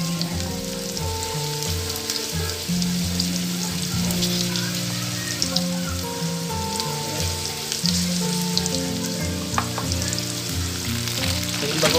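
Ampalaya sizzles loudly in a hot pan with bagoong alamang shrimp paste, a dense, continuous crackle of frying with occasional stirring, no talk.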